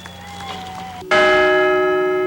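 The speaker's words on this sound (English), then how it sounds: "a bell tolled 40 times for those who died aboard United Airlines Flight 93" A single church bell struck at a memorial ceremony in Shanksville rings out loud and close, its bright strike followed by a long, sustained hum, after a quieter stretch of fading tones from the previous toll.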